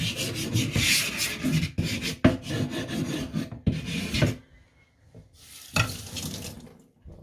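A wet sharpening stone used for a Nakiri knife is roughened with quick, rhythmic rasping strokes that stop briefly and then resume, close and fairly loud.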